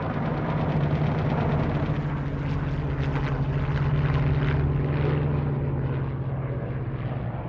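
Japanese torpedo planes and level bombers in an aerial dogfight produce a dense, continuous propeller-engine roar with a steady low drone throughout, loud and unbroken.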